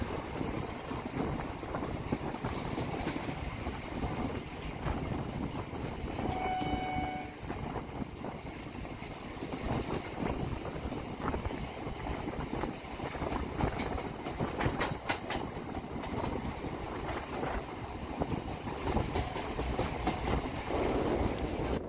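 Tarakeswar–Goghat local train in Hooghly district, West Bengal, leaving the main line for a loop line; a steady, loud rumble and rail clatter carry throughout, with a brief horn tone midway.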